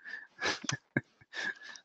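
A sneeze bursts out amid a few short breathy noises and sniffs, fairly close, with no talking around it.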